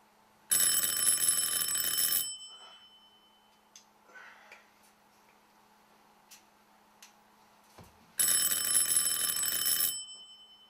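A bedside alarm clock ringing early in the morning, two loud bursts of bright metallic bell ringing separated by a quiet stretch with faint ticks and small movements.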